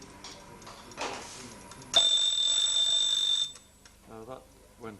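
A mechanical alarm clock rings with a sharp, shrill bell burst lasting about a second and a half, close and loud, between stretches of quiet talk and handling noises.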